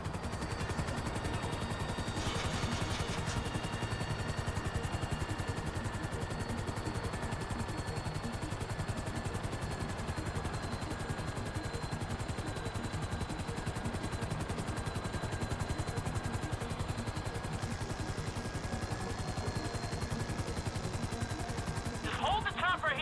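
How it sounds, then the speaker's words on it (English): A GTA 5 helicopter hovers over an excavation site, its rotor giving a constant rapid chopping drone for the whole stretch, steady and fairly close, with brief bursts of other game noise near the start and end. "I need you to hold the chopper above it while I take a look."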